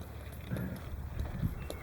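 Horse hooves clip-clop in a cowboy church arena as an older, well-trained horse is ridden, with a few soft, irregular thuds over steady wind and background noise.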